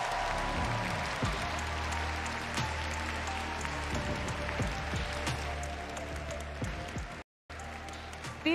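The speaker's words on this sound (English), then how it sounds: "Let's give them a big round of applause." Steady applause fills the hall at a Pokémon World Championships finals as the players are introduced, a continuous crowd clapping with a brief dropout near the end.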